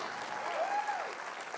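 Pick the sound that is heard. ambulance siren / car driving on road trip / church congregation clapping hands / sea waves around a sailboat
church congregation clapping hands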